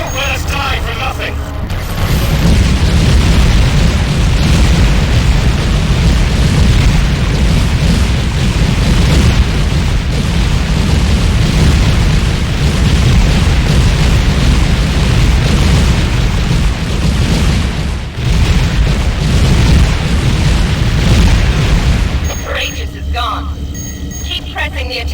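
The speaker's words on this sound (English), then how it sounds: "Now that was an explosion, folks." A massive explosion in the space combat game Tachyon: The Fringe, a loud, sustained roaring boom with crackling debris that rolls on for many seconds before cutting off, with voices speaking near the end.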